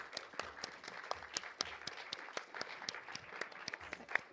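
Audience applause for team Coastal Squid Surf at a collegiate Splatoon 3 LAN tournament, a steady run of many hands clapping at moderate level, dense and continuous with a few sharper individual claps standing out.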